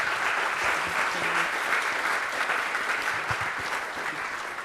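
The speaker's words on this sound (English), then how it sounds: "Can I get a round of applause for our excellent panel?" Sustained applause from a conference audience thanking a panel at a closing session, a dense, even wash of many hands clapping that holds steady and fades slightly toward the end.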